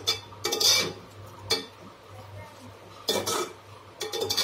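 A spoon stirs mushroom curry seasoned with pepper powder in a pan, giving clinks and scrapes in short bursts separated by pauses, with a faint steady hum underneath.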